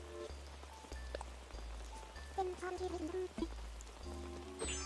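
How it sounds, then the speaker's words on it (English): Rain falls in the Animal Crossing: New Horizons video game, a soft steady patter running beneath gentle plucked melody notes and a low pulsing tone. "Let's start turning off the rain."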